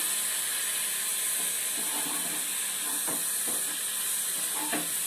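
Water poured into a hot pan of coconut and jaggery sizzles in a loud, continuous broadband hiss, with a few faint clicks underneath.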